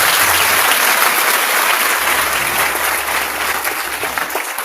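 A church congregation applauding, loud dense clapping from many hands that holds steady throughout with no voices standing out.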